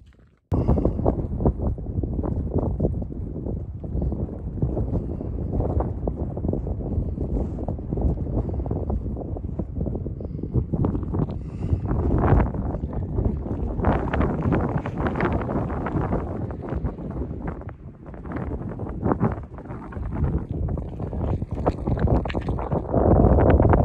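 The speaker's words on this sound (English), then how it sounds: "if it's windy like this, forget it" Steady, blustery wind buffets the microphone throughout in Afton Canyon, a continuous low rumble with gusty swells and no voices.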